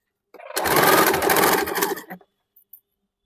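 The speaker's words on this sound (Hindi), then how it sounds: "ये नीचे का दोनों साइड का फोल्ड करने के बाद पूरा को एक साथ सिलाई चला लेंगे" A sewing machine runs a single burst of stitching along a folded fabric hem, a dense rapid mechanical chatter lasting about two seconds, loud and close, followed by a couple of soft clicks and silence.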